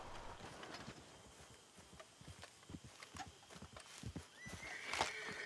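Hooves clop in a quick, uneven rhythm close by in the video game Red Dead Online, and a horse whinnies near the end; no talking.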